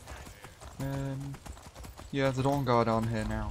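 Horse hooves clip-clop steadily in the video game Skyrim, a rapid rhythmic patter under a voice and brief vocal sounds.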